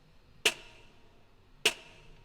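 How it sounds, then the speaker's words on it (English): Two sharp, crisp snare hits about a second apart, each with a short ringing tail, played alone in a quiet mix. "Then we are back to using the verse snare."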